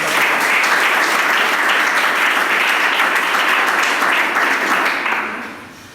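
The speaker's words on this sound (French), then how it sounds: "J'aimerais qu'on vous remercie et qu'on vous applaudisse" A large audience gives dense, loud applause that holds steady, then tapers off over the final second.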